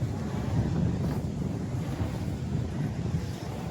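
Strong wind blowing across the hilltop of Kundur Betta on a trek, a continuous loud roar and buffeting rumble against the microphone with no pauses.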